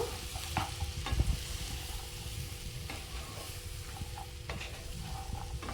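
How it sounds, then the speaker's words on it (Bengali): Chunks of bottle gourd sizzle in spice masala for a prawn dish while a spoon stirs them, giving a steady close frying hiss broken by repeated scraping and clinking stirs, with no voices. "লাউ দিয়ে দিলাম একটু নাড়াচাড়া করে নেব"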